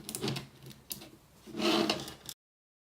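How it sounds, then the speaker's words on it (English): Small screws being driven into the corners of a replacement Nintendo Switch Joy-Con housing: close, quiet mechanical rubbing and clicking in two short bursts, with no one talking. "We still need to replace the 4 screws in the corners"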